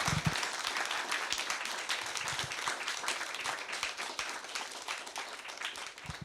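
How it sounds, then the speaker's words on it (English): Audience applause for two philosophers at the close of a talk by Scott Hershovitz and Sarah Bakewell, a dense, steady clapping from a fairly full room that carries on unbroken. "Can we have a final round of applause for our two philosophers?"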